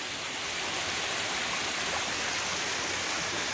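A waterfall on the Appalachian Trail pours in a steady, close, full roar of rushing water that stays loud and unbroken throughout, with no voices.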